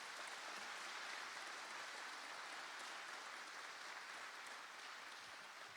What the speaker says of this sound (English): Give Abby and our color guard another round of applause,